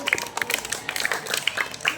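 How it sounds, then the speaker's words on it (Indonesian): Students in a volleyball lesson clap for a classmate, with a quick, uneven patter of hand claps from a small group close by and some talk mixed in. "tepuk tangan sekali lagi buat temennya"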